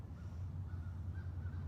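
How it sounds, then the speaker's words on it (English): Crows cawing outdoors around Halloween, a few distant, faint calls over a steady low background hum. "The crows are just adding to their spooky ambience."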